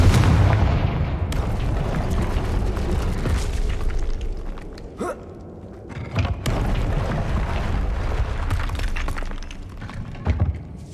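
Confringo fire spells from Hogwarts Legacy burst in a loud, dense run of booming explosions and crackling impacts, with brief pauses around the middle before the blasts resume, ending with a sharp final hit.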